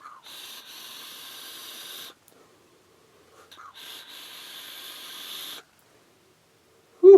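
Two long, steady airflow hisses from drawing on a Lemo 2 RTA atomizer, each lasting a couple of seconds with a short pause between, close and clear, with a brief breath sound at the end.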